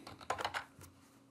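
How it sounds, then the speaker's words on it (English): Quick keystrokes on a computer keyboard, a short burst of about half a dozen light clicks followed by quiet, fairly faint and close. "So I'll type in SharePoint."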